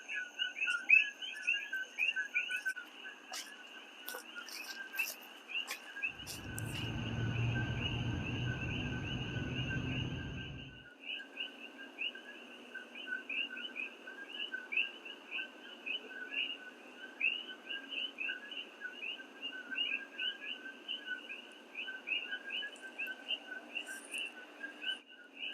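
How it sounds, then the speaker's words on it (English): Dense chorus of night birds singing in banyan trees in Hawaii, steady high chirps and whistles repeating throughout, with a brief low rumble partway through. "listen to those birds"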